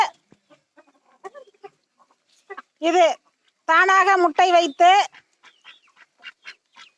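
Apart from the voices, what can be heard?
mani duck (Indian duck breed) calling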